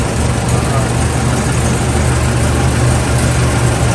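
A 1915 Dodge Brothers Touring car engine idles steadily with a low, rumbling throb, and the noise stays even from start to finish.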